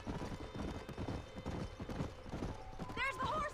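A herd of horses in a western open-world game, rapid clip-clop of hooves drumming close by, joined near the end by a shrill neigh, with talking over the top.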